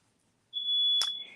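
A smoke alarm triggered by cooking starts up suddenly after a quiet moment, holding one loud, shrill, continuous tone. A sharp click sounds partway through the tone.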